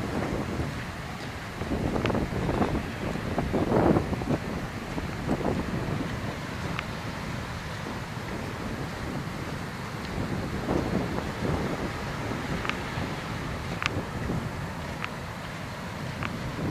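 A stormy winter day on the Atlantic Ocean, strong wind buffeting the microphone over the constant wash and crash of waves, loud and sustained for the whole stretch with no one speaking.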